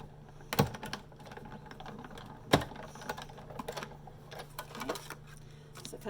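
A tabletop die cutting machine runs a circle die through, with a low steady whirring hum and two sharp loud clunks plus lighter clicks, close by with no talking.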